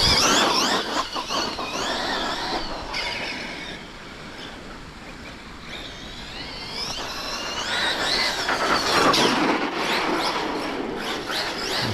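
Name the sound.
Hobao SSTE RC car driving and sliding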